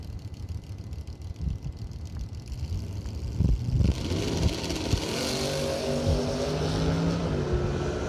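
Drag racing cars, a 1975 Vega and a 1963 Corvette, launch off the line at a Christmas bracket race. A steady rumble suddenly swells into loud, rising engine roars that hold strong to the end.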